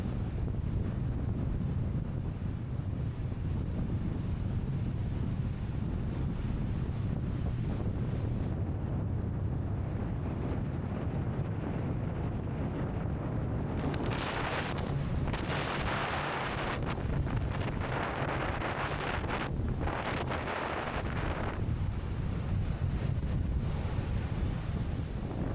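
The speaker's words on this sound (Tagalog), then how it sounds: "Sumisipol yung hangin dito" Strong stormy wind whistles and buffets loudly and continuously for the whole stretch in Ilocos, roaring with a rough, gusty rush that swells and dips, and no voices are heard.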